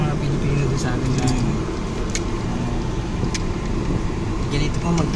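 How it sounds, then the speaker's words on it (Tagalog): A car drives steadily along, its engine and road noise forming a constant close rumble inside the cabin, with faint clicks and rattles on top. "Ganito pa mag-drive si Jay"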